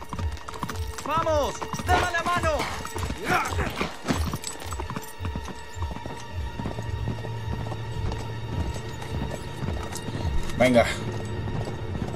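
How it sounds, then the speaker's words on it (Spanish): A horse in the video game Uncharted 3 gallops with rapid clip-clop hoofbeats and lets out warbling whinnies early on, with voices talking over the action. "¡Ahí está mi caballo!"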